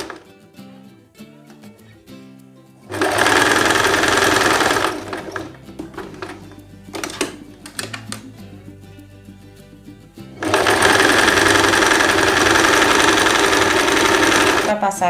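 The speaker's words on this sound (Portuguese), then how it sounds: "Você vem costurando essa parte do seu cinto, do cintinho, da faixazinha que tem aí." Dress waistband sash being stitched on a sewing machine, with two loud sustained bursts of rapid motor-driven stitching separated by quieter handling and shorter stitch runs.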